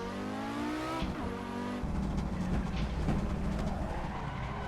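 Audi Sport Quattro S1 engine in a Pikes Peak racing video game, revving up and dropping through downshifts with rising and falling engine tones, loud and continuous with no talk.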